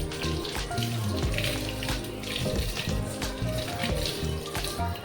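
Tap water runs steadily into a kitchen sink while wipes are washed, a continuous close splashing rush lasting throughout with no talking.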